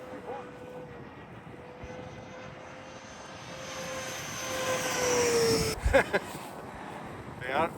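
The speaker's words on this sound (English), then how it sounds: "I have the same plane, the V1." A small V1 plane's engine drones steadily, then swells louder and shifts pitch as it passes close, ending in a couple of thumps, with people talking over it.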